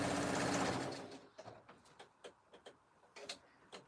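A sewing machine runs fast over jelly roll fabric strips for a rug, then slows into a string of separate ticking stitches and clicks, close by with no voices.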